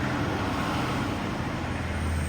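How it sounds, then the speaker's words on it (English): A Walmart truck rolls past on a road in Madison, Georgia, its steady engine rumble and tire roar filling the scene as continuous, fairly loud traffic noise without speech. "Here comes the truck."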